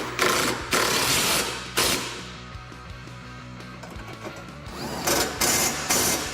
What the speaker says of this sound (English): Now I like to tighten these 2 bolts up first.